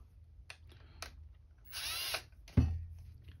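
A short burst of a power drill whirring for about a second while cleaning up a Kimber K6s handgun sight, surrounded by light clicks and handling noises, ending with a sharp knock.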